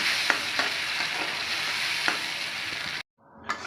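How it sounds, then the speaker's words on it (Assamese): Steady sizzling of ground tomato frying in a pan for paneer masala, with a few sharp scraping clicks of stirring, then a brief drop to quiet before the sizzle resumes. "এইখিনি মই এনেদৰে ভাজি থাকিম"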